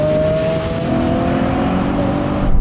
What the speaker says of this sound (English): now we're going to have a rolling race in sports mode with the cars locked in third gear